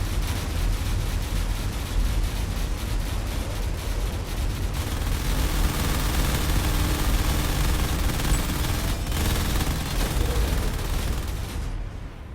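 Dense, continuous gunfire and impacts striking a cannon in a space combat video game, a loud sustained barrage of rapid shots and booms with no pauses.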